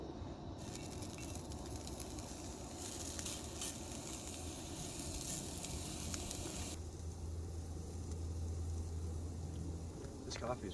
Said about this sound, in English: I'm gonna cook up some of this Italian sausage from yesterday